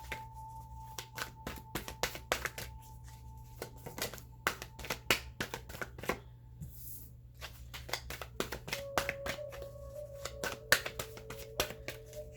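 Tarot cards shuffled and drawn at a table: dense, irregular papery flicks and taps run throughout at close range, with a low steady hum underneath and no voices.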